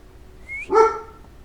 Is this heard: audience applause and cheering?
no